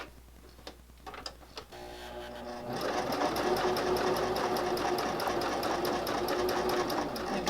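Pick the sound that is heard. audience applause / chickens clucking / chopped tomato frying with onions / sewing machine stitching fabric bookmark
sewing machine stitching fabric bookmark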